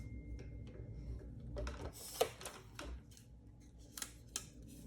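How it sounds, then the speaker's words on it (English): Scissors snip through a thin strip of material in a few scattered, fairly quiet cuts set against a low background hum, with no voices present. "I'm gonna go ahead and just cut a little off."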